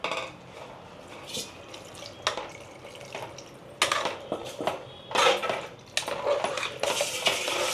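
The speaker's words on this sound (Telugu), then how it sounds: "ఇంకా నీళ్ళు పోసినాం కదా" Water splashes and pours into a metal pressure cooker of mutton boti curry, mixed with intermittent clanks and scrapes of cookware close by.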